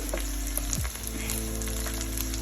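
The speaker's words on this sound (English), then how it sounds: "I'm frying it with some oil, not very much." Steady, close sizzling of idli frying in a little hot oil runs throughout, with a constant low hum underneath and occasional faint crackles.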